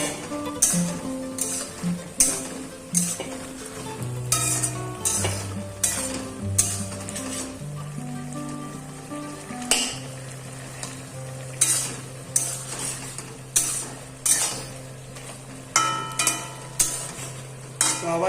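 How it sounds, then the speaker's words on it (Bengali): Oil-free mixed vegetables are stirred in a lidded pan, the spoon scraping in regular, close strokes about once a second over a low sizzle, with a faint steady tonal hum underneath. "এখন আমি খুলবো খুলে ওটাকে আবার ভালো করে নেড়ে ছেড়ে আবার ঢাকা দিয়ে দেবো"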